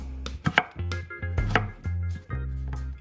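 A knife chops lamb and potatoes on a cutting board in a steady run of close, distinct thuds, each stroke followed by a brief low resonance, with no talking.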